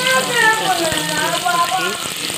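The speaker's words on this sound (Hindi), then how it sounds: "मैं सब्जी को फ्राई करूँगी" Parwal vegetables sizzling in a pressure cooker, a loud, close, steady hiss of frying with bubbling crackle throughout, and a voice faintly present.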